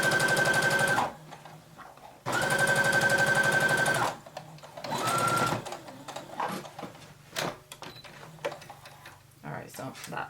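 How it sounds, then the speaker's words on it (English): A sewing machine runs in three rapid stitching bursts, loud and close, followed by clicks, handling noises and quieter rustling. "I just can do it here on my sewing machine"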